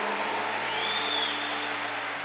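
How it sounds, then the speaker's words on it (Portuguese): A church audience applauds the women standing at a Catholic gathering, producing a steady, dense wash of clapping that holds at an even level throughout, with a faint low hum beneath. "vamos aplaudir essas mulheres de Deus"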